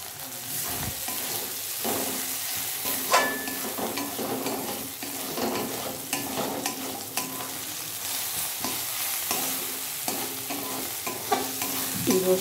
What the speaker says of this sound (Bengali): রসুনের পেস্টটা দিয়ে আমি খুব সুন্দর করে 2-3 মিনিট মতো নাড়াচাড়া করে দেব